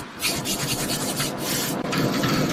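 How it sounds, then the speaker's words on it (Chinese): A steam-powered lathe runs steadily with a continuous rasping, rubbing mechanical noise, close and moderately loud, without any voices. "这叫蒸汽动力车床"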